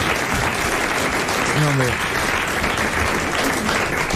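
Studio audience applause on a French television panel show, a dense and steady wash of clapping that lasts the whole clip while someone speaks briefly over it.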